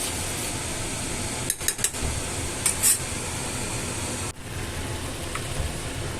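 Spice paste being stirred with water in a pan for egg kosha, a steady sizzling hiss with a few sharp spoon-on-pan clinks midway, close and alone.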